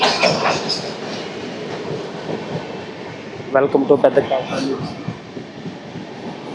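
The Golconda Express passenger train rolls along near Pedda Kakani station with a steady rumbling clatter of wheels on rails, and a brief burst of rhythmic clicks midway; someone speaks briefly over the noise.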